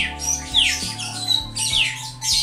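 A lovebird lets out repeated sharp, harsh squawks and chirps in bursts close to the microphone, over a steady low background hum.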